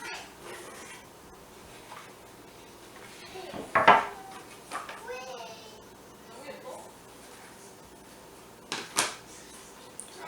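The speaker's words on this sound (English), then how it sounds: "So our celery, I'm going to place into this container so we can save it for later." Chopped celery goes into a container in a kitchen knife lab: a couple of brief clattering knocks and scrapes of dishware, close by and mostly quiet, while a person talks throughout.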